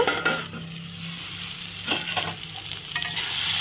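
Food is stirred in a hot frying pan, a spatula scraping and turning it over a steady sizzle, with a few sharper scrapes throughout and no talking.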